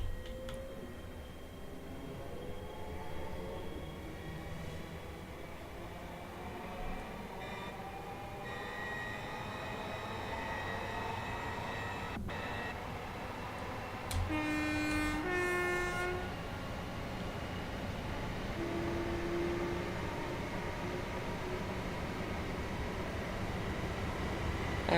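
Exterior running sound of a Class 390 electric train in the Train Sim World game on the West Coast Main Line, a steady rumble with rail joint clicks and a brief tonal horn-like call midway, no talk.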